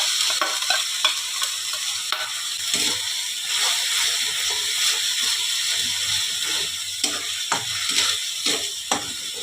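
Spice paste and ginger paste fry and sizzle in a hot pan, with steady crackling and intermittent scraping and stirring clicks throughout, no talking.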